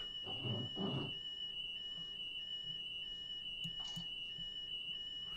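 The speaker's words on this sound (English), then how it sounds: "Shut up, alarms." A cab warning alarm in the Train Simulator 2014 game beeps in a repeating high electronic tone, regular pulses held at steady level, fairly faint, with a brief low thud early on.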